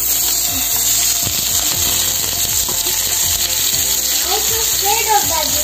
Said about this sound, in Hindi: मैं इसको थोड़ा सा फ्राई करूंगा।